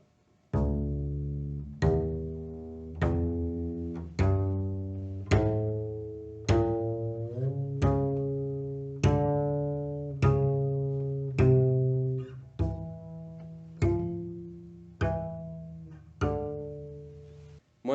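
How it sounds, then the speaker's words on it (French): A double bass bow played percussively near the head plate gives about a dozen sharp, evenly spaced strikes. Each ringing tone decays quickly before the next, heard alone with no talking. "Si on bouge un peu plus vers la plaque de tête, ça devient plus percussif."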